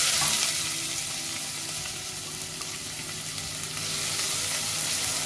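Cut onions, green chilies and mustard frying in hot oil, a loud dense crackling sizzle with occasional stirring clicks, steady throughout.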